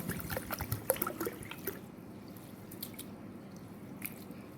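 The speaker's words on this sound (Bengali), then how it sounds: "এবার আমি আতপ চালটাকে ভালো করে ধোবো" Atop rice is being rinsed in water, with wet drips, trickles and soft squishing sounds, busier at first and then settling into faint, sparse splashes.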